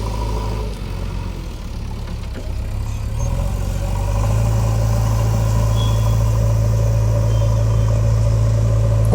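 A JCB excavator working soil on a farm near a brick kiln, its heavy diesel engine rumbling loud and close throughout, rising to a steadier, louder drone partway through.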